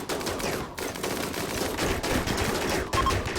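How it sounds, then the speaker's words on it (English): Rapid, continuous automatic gunfire crackles through a RimWorld firefight, a dense, fairly quiet volley of overlapping shots with brief pauses and no speech. "Stop firing down range, because you're going to hit mag."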